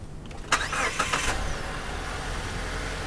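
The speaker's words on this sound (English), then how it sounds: "we're going to go ahead and start the vehicle with the good battery" A Honda-dealer car engine turns over with a brief whirring crank and catches during a jump start, then settles into a steady, low idle, heard close and alone.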